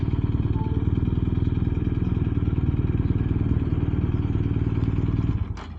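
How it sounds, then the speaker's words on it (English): A Kawasaki Z125 motorcycle with a single-cylinder engine idles up close, its steady rapid thumping chugging without pause and easing off right at the end. "This is a single cylinder engine, so there's just one cylinder and they're popping back and forth."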